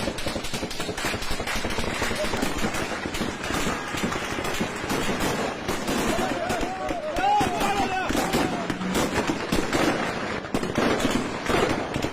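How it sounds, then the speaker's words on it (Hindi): Gunfire rattles through a clash between Druze and Bedouin fighters in Syria, with dense, continuous cracks and bursts and heavy booming, constant and loud throughout, with faint voices mixed in. "द्रूज बेदोइन लड़ाके आमने सामने आ गए हैं और जो मिल रहा है उस पर गोली दाग दी जा रही है।"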